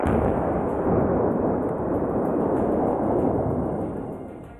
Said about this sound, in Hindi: विस्फोटक लगाकर एक ही झटके में इस पुल